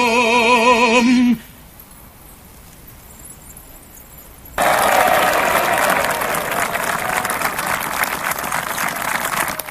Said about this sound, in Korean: 적장의 찬양에 환호하는 연합군.